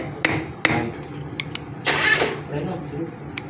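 An impact wrench fires two sharp short bursts, then a longer rattling burst, while loosening a front shock bolt on a Honda Beat FI V2 motorcycle, heard close up amid workshop noise with speech.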